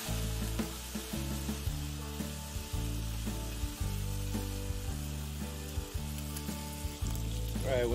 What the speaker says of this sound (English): So now we're gonna add all of our vegetables and our aromatics in there.